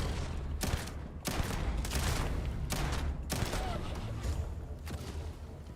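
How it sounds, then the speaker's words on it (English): Gunfire from the character Sam Coe in a video game, a run of rapid shots mixed with a dense, steady background of noise, fairly loud and continuous. "Sam Coe shooting things that aren't even attacking us"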